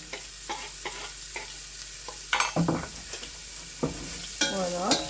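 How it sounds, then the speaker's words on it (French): Onion frying with cumin in a spice mixture, a soft close sizzle with repeated scraping and clattering stirs of a utensil against the pan. "je vais laisser griller, colorier mon oignon correctement dans ce mélange"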